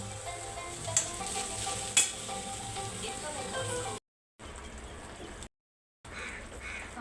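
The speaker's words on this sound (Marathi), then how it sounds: "तर हे आता आपल्याला छानपैकी हलवून घ्यायचं आहे" Coconut rice with jaggery being stirred in a hot pan, a steady sizzle with occasional sharp spoon knocks, broken by two brief silent gaps.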